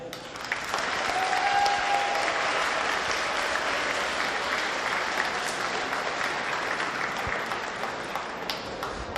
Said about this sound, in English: I want you to say thank you and clap for them